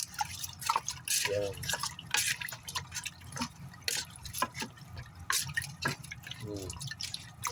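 Vinegar being poured and mixed into a humba marinade: close, splashy dripping and liquid sloshing with clinking stirs, while someone speaks briefly.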